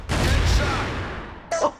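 Grenade blast in a video game: a single loud, close boom that decays over a second, followed by a short sharp burst of sound near the end.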